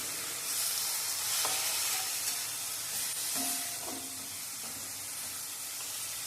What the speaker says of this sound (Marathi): एक मिनटासाठी परतून घ्यायची